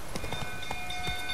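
In The Witcher 3: Wild Hunt, a horse gallops with quick, rhythmic hoofbeats under a steady ambient game backdrop, fairly close and continuous through the moment.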